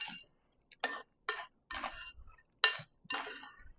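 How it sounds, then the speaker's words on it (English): Scone dough with white chocolate chips is stirred in a bowl, giving a handful of separate scraping, clinking strokes at close range with short quiet gaps between them and no talk. "Now we're just going to take and kind of stir it around,"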